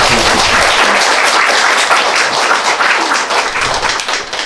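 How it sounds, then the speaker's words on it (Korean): An audience at a book talk applauds loudly with dense, continuous clapping that slowly thins out near the end. "잘 걸어오신 수사님께 박수 한번 해요."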